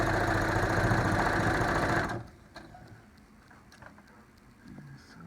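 A sewing machine stitches a lined cloth face mask with a loud, close, steady whir for about two seconds, then stops, leaving a quiet room with a few faint taps.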